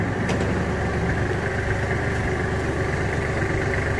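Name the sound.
Kubota GL23 mini tractor engine idling, PTO tiller engaged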